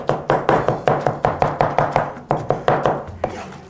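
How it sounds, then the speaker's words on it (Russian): Knife chopping herring into a paste for forshmak on a board, a steady run of about fifteen sharp, close thuds at a quick even rhythm with no talk. "ножом превращаю в единую массу"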